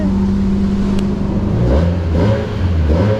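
A 2014 Nissan engine runs loud and raw, as if the muffler were gone, during an oil service: a steady, close, rumbling drone whose pitch shifts partway through.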